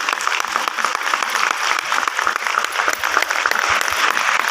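Audience at a leadership event clapping loudly, a dense, steady burst of applause from many hands filling the room throughout.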